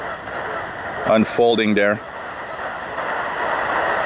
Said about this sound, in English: And by the way, what you're hearing are birds.